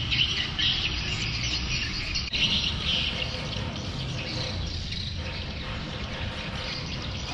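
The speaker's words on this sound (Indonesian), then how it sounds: "Banyak suara burung teman-teman ya, karena emang di sini banyak pelihara burung walet ya" A dense chorus of high-pitched swiftlet chirps from birds kept at a market in Sumbawa fills the air continuously, a steady twittering wash over low background noise, with no one speaking.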